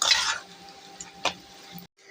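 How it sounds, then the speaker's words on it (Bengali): Whole spices, bay leaf, black pepper, cloves, cinnamon, cardamom and green chili frying in a pan, with a sizzling hiss that is strongest at the start, a brief stirring clatter midway, then a short silence. "এগুলো এখন এগুলোতে ভালো করে ভাজবো।"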